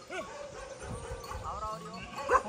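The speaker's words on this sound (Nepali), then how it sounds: "कुकुरले के भन्छ" A dog on a trekking trail barks and yips in short bursts near the start and again at the end, mid-distance, mixed with people talking softly around it.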